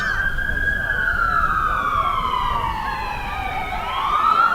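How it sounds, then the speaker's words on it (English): A wailing fire department siren sweeps slowly downward in pitch, loud and steady, with a second siren tone rising near the end over a low rumble of traffic. "we're going to be hearing sirens"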